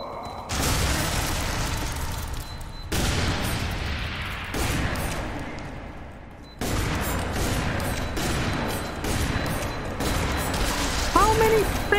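Dense, continuous bursts of gunfire and explosions from the shooter game F.E.A.R. 3, loud and sustained in several blocks with brief breaks between them.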